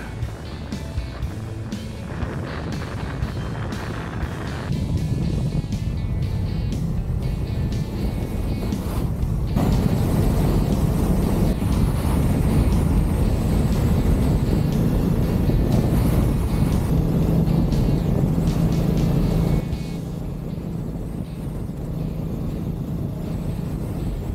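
A motorcycle ridden along a mountain road in the Sierra Madre of Sonora gives a continuous engine drone mixed with heavy wind buffeting, rising in intensity midway and easing near the end.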